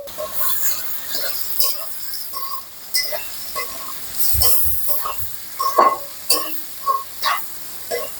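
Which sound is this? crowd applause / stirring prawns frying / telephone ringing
stirring prawns frying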